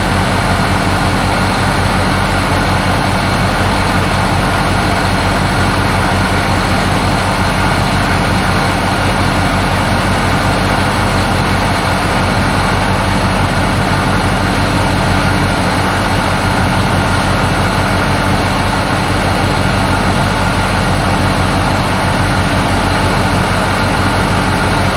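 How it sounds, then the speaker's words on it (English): A John Deere 8130 tractor engine runs at a steady idle, a loud constant diesel drone with a low rumble that continues unchanged for the whole stretch without any voices. "I gotta go turn the tractor on"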